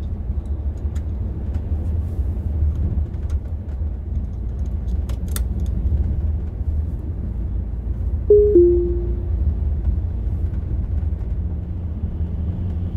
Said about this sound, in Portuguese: Ônibus de Ituiutaba para São Paulo.